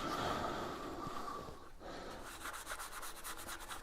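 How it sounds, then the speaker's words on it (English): Steady, close rubbing and scratching of a cloth or pad working Yorkshire Grit abrasive paste into sealed wood grain, a continuous gritty friction with a brief pause midway. "I've just rubbed the Yorkshire grit in, trying to get it into the grain."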